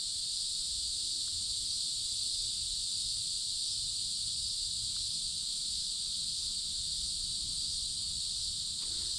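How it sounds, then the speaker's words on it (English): Cicadas on a nature trail in Alabama give a steady, unbroken high buzzing drone that holds at an even level throughout, with no talking over it. "I want you to still hear that the cicadas are still alive in Alabama."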